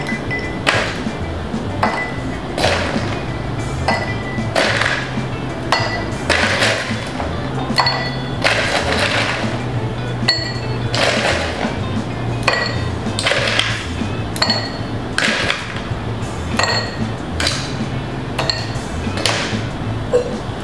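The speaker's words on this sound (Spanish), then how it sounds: "Colocamos hielo." Ice cubes dropped into a cocktail glass while a Chivas Collins is mixed: a run of sharp clinks and knocks, a dozen or more in irregular succession, close and fairly loud over a low background hum.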